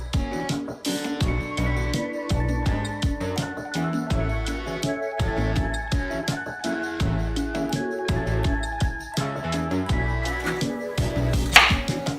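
A knife chops an onion on a cutting board for tomato soup, producing a steady, quick series of close, crisp knocks over tonal background music.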